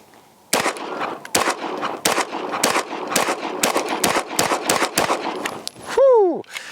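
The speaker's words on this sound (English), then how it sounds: "Gun's definitely cycling fast with those 115s." A pistol fitted with a Parker Mountain Machine Staccato compensator firing 115-grain rounds, a rapid string of about a dozen sharp, loud shots close by in quick uneven rhythm, followed by a brief electronic chirp.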